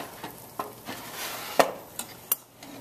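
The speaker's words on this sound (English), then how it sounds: "I'm taking the tongs, wearing my oven mitt, and just turning the pieces" Metal tongs turning stir fry pieces in a toaster oven, several light clicks and scrapes spaced irregularly over soft sizzling, quiet and close with no talking.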